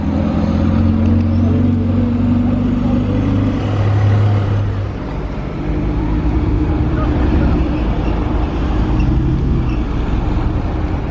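A red 700S supercar pulls out of a casino car park with a loud, sustained engine roar, rising as it accelerates, while people talk over it.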